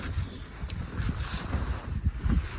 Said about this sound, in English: Definitely the wind is up at least, I'm going to say 30 to 40 kilometers an hour.